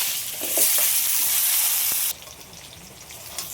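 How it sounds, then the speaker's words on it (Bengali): Small cut potato pieces frying in hot mustard oil, giving a loud, close sizzle for about two seconds that then drops to a quieter, steady crackle. "আলুগুলো ভেজে নেব।"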